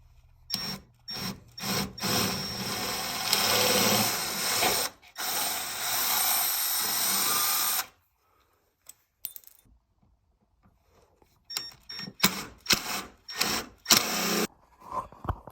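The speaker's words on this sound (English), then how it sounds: "Right here I have my drill with an extension. This is a 1/16 pilot hole." A corded electric drill with an extension bores a 1/16-inch pilot hole in a DC2 Integra, loud whirring bursts stopping and starting, then quiet, then short clicking and rattling handling noises.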